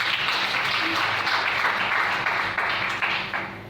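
A church congregation applauding, a steady wash of many hands clapping at close range, sustained and then easing off toward the end.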